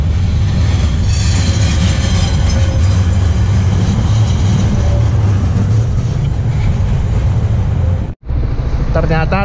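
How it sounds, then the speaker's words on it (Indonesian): An old tram runs through the streets of Sofia, Bulgaria, with a loud, steady rumble and rattle of wheels on rails and faint squeals, before a brief cutoff near the end. "Nah, ini kereta yang lama ini."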